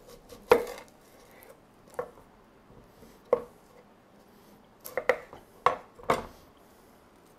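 A knife cuts through an onion on a board, giving sharp, separate knocks spaced irregularly, two or three at a time, close by in a quiet kitchen.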